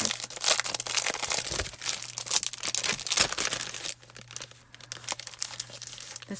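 Sheets of smooth 100-pound Catherine Pooler cardstock being handled, with close, busy crinkling, shuffling and rustling that grows quieter and sparser toward the end.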